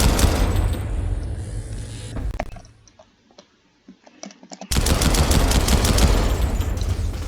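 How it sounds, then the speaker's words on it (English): A Titan gun in the video game Dawn of Aurora fires in rapid, dense bursts, loud and close, stopping for a quieter pause with scattered clicks before the barrage resumes. "Okay, let me test it out."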